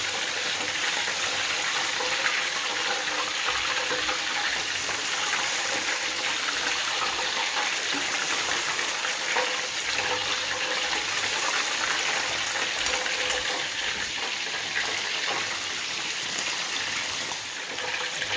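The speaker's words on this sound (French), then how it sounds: "vous devez retirer le poulet de l'huile et l'asperger de la friture" Steady, dense sizzling of chicken frying in hot oil, loud and continuous throughout with crackling bubbles and no talk.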